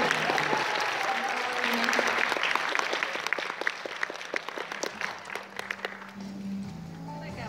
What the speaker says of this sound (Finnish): Taputtakaa.